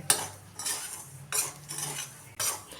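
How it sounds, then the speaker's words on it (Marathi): Dried chickpeas are stirred through hot salt in a kadhai over a medium flame, giving four loud scraping, rattling sweeps of a metal spoon at a steady rhythm, close and without talk. "आता हे सुकलेले हरभरे आपण यामध्ये असे मोठे मोठ टाकून घ्यायचे आहेत आणि आता हे एकसारखे हलवत राहायचं आहे"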